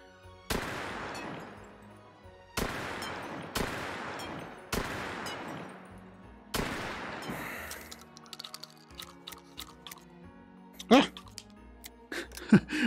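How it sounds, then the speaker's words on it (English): A shotgun loaded with buckshot fired in the VR shooting game Hot Dogs, Horseshoes & Hand Grenades: four loud, sharp blasts spaced about a second or two apart, each decaying quickly, followed by lighter clicks and handling noises, with a voice talking briefly. "Oh, this is buckshot, so I'm gonna be hitting those"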